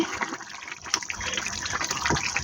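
Broth pours into a pan of fish and eggplant curry, giving a steady splashing gush of liquid that lasts a few seconds.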